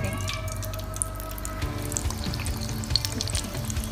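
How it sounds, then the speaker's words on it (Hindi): Vada balls coated in batter fry in hot oil over a medium flame, giving a steady, close sizzle and bubbling that runs evenly throughout with no voices. "मीडियम फ्लेम पे अच्छे से फ्राई कर लेंगे, इनका कलर हल्का सा चेंज हो होने तक"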